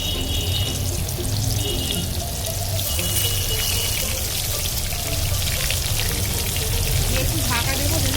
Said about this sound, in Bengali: এবার আমি মাছটা কড়াই দিয়ে দেবো।